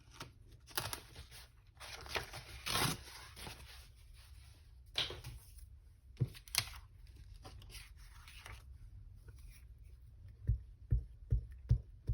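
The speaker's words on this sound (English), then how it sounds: "let me rip this page off" A page ripped from a junk journal: scattered papery tearing and rustling bursts, close and fairly quiet, with a longer rip early on and a few sharp taps and handling sounds near the end.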